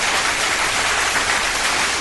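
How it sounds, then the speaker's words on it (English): Studio audience applause fills the space as a steady, dense wash of clapping, loud and continuous with no talk over it. "Do I have a round of applause?"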